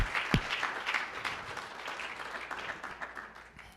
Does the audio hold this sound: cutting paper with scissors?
no